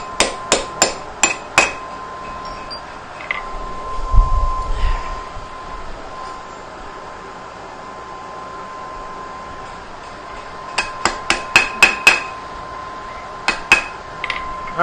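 Sharp metal-on-metal hammer blows drive a steel drift through a hole in hot iron at a blacksmith's anvil, coming in quick rhythmic bursts of four to six strikes separated by quieter pauses, close and ringing.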